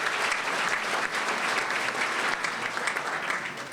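Audience at a memorial breakfast for Martin Luther King Jr. applauding steadily, a dense, even wash of clapping from a large crowd that holds at full strength throughout.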